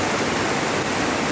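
Strong floodwater rushes past in a loud, unbroken broadband roar, close and dense, with no voices over it.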